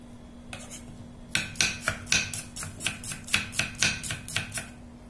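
A knife chops spring onions, coriander, lemongrass and shallots on a cutting board for a Thai salted crab and mango salad, giving about a dozen crisp, evenly spaced chops at close range after a brief pause.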